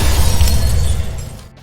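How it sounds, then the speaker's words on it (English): Car crash in a film, heard as a loud burst of shattering glass and impact noise that fades within about a second and a half, with no speech. "Mina never learned how to drive properly and crashes the car"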